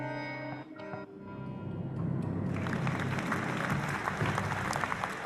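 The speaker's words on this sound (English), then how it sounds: "I don't normally play claps for us, but I have to clap" Applause sound effect played on a radio show: after a fading musical tone, a crowd's clapping swells in and continues as dense, steady, fairly loud applause.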